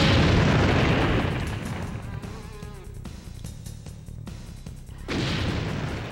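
Grenade blasts from the video game The Crow: City of Angels, a loud rumbling boom that fades into scattered crackle and debris, then a second heavy burst near the end, with no speech.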